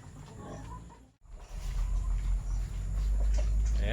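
Grunting and low snorting from pigs, with a brief gap partway through, then a dense rumble of animal noise up close.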